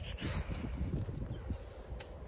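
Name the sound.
strong wind blowing at Bhairav Kund on the Gosaikunda trek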